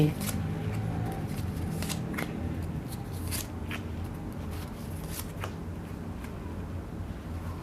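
Tarot cards are shuffled by hand in a quick run of soft riffling slaps and crisp snaps, fairly close and fairly quiet, with faint talk underneath.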